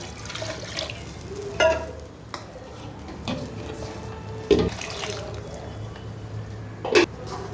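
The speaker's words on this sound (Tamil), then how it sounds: "கொஞ்சம் தண்ணி ஊற்றி" Water is poured into rice flour dough in a pan, a soft watery wash broken by several sharp clinks and scrapes of the spoon against the pan.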